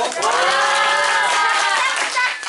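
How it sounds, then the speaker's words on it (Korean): Clapping from a small church gathering, with voices cheering and calling out over it, sustained for a couple of seconds. "박수 한번 주세요"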